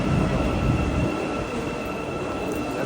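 A train running in Turkey rumbles loudly and steadily, then settles into a quieter rolling hum with a faint high whine of wheels on track.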